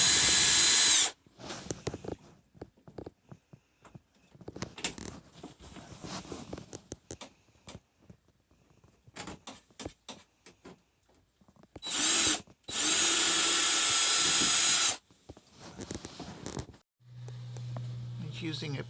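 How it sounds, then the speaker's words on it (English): A power screwdriver fitted with an extension drives screws during a shower renovation in a 2019 Minnie Winnie motorhome, giving a few short whirring bursts, the longest around three seconds, separated by quieter handling noises. "He's having to use an extension on the screwdriver"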